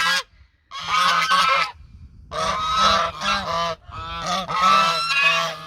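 Several geese honk loudly and repeatedly nearby, their harsh nasal calls overlapping in bursts with short pauses between.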